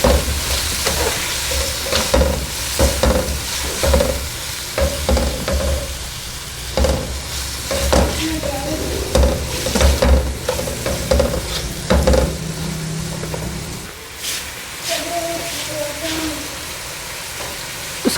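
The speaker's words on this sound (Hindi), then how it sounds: "इसको अच्छे तरीके से मिक्स कर लो" Chicken macaroni sizzles in a pan as it is stirred with red chilli and salt, producing repeated scraping strokes over a constant frying hiss. Close and busy, with some background murmur.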